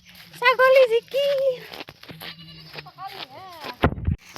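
A goat bleats outdoors in the rain, giving several short, wavering cries in quick succession with a human voice nearby and a sharp noise near the end.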